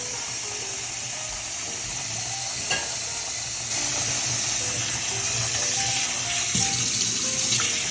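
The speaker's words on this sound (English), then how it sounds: "so pour it into cold water" Blanched broccoli rabe is poured into cold water in a sink, giving a continuous close rush of running water with a few soft clunks and splashes.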